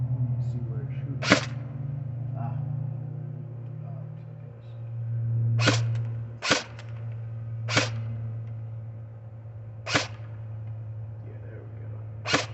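Umarex MP5SD airgun firing at boxes: five sharp, separate shots spaced a second or more apart, over a low steady hum with faint background sound.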